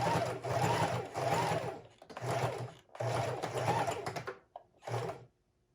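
A sewing machine stitching ribbon onto a junk journal page runs in four short bursts of rapid, buzzing needle strokes separated by brief pauses, close and fairly loud, with no talking.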